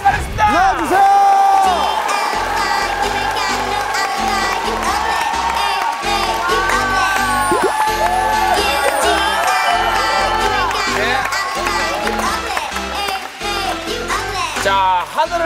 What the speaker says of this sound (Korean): 큰 박수로 맞이 받겠습니다